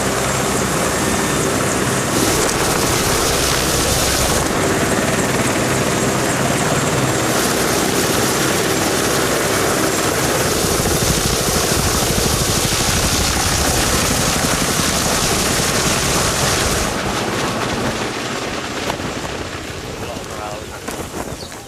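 Military helicopter in flight over Afghanistan, the only way in and out of a remote outpost: a loud, steady broadband rotor and engine roar with wind buffeting, continuous throughout and easing slightly toward the end.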